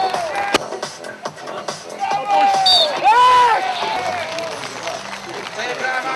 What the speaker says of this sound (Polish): Te brawa są uzasadnione!